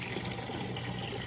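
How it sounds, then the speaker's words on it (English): A bucket fills with water from a tap, a steady, close rushing and splashing flow that runs unbroken for its whole length. "I'm filling my bucket with water. Very slowly, because it's very loud."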